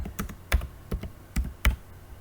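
Keys on a computer keyboard clack in an uneven run of about eight distinct strokes with short pauses between, close and crisp, with no voices.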